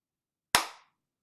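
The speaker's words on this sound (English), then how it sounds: "give your hands a big clap" A single sharp hand clap, close and loud, with a quick decaying ring, standing alone in silence.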